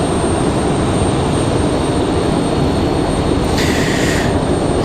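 An Embraer E190 jet departs at Raleigh-Durham airport with a loud, steady, broadband engine roar that holds throughout, and no voices.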